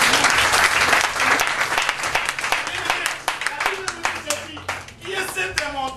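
A church congregation claps and cheers in praise of God, dense applause with voices calling out over it, loud at first and gradually thinning into scattered clapping and shouts.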